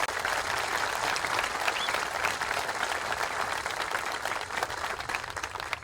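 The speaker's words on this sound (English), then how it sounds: "How about a round of applause?" An audience applauds steadily at a military cadet summer camp graduation ceremony, many hands clapping in a sustained, even burst that fills the whole stretch.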